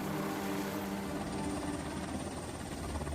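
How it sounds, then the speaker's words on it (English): Helicopter rotor and engine noise during a recovery aboard a Navy LCS ship at sea, a steady loud thrumming drone with a low rhythmic chop that holds throughout, ending with a brief bump. "A helicopter recovery"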